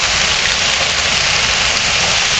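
A dense, steady roar of hail pelting the ground during a hailstorm, loud and continuous with no pauses.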